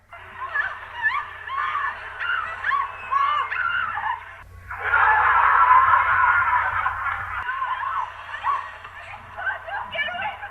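A family screams and wails for help in a horror TV scene, frantic overlapping cries that rise in intensity midway, with a low hum underneath.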